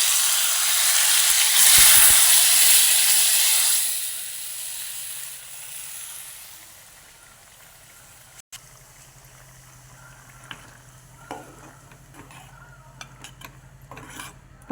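A loud burst of sizzling as hot tempering hits a pan of spinach, roaring for a few seconds and then fading into a low simmer with occasional clicks.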